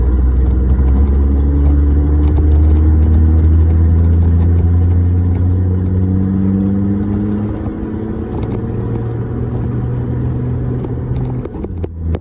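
A loud car engine drones steadily inside the cabin during a test drive, with rising harmonic whines as it accelerates through a gear change.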